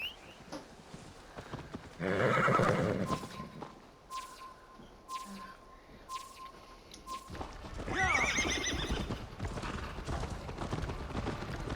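A horse neighs loudly several times with hoofbeats and galloping clip-clop between, the whinnies standing out against a quieter background in Assassin's Creed Valhalla.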